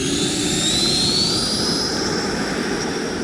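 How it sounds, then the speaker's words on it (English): A radio-controlled model jet at half throttle on takeoff gives a loud, steady turbine whine with a rising high-pitched tone over a broad roar, continuous from start to finish. "take her up, half throttle takeoff, and go have some fun"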